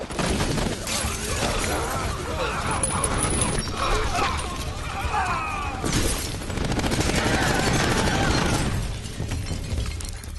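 Gunfire in a scene from the animated film Ghost in the Shell 2: Innocence, a dense, loud barrage of bursts and crashing impacts with shattering debris, sustained across the scene and surging again near the end.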